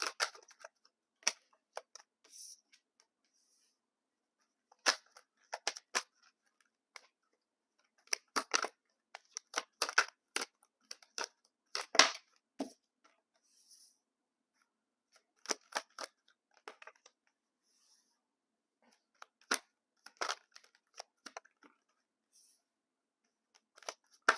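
Oracle cards being shuffled and drawn in quiet scattered bursts of crisp flicks, riffles and taps, faint and close, separated by stretches of near silence.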